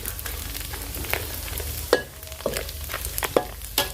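Pork and holy basil stir-fried in a hot pan for pad krapao, a continuous loud sizzle broken by repeated scraping stirs and spatula knocks, close up with no talking.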